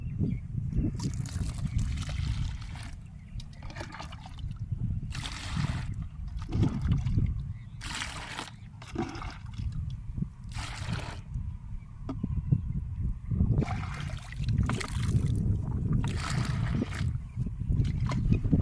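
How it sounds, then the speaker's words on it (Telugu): Pesticide poured from cans into water for a rice-field spray mix, steady low sloshing and trickling with a series of brief splashy pours spaced across the stretch. "ఇది కూడా 5 డబ్బాలు అయితే పోస్తున్నాను"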